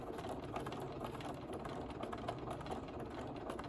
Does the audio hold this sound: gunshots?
no